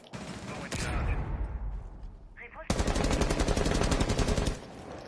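Automatic gunfire in a video game punches holes through a wall, with a loud rattling burst at first, then a second, denser rapid-fire stream lasting nearly two seconds.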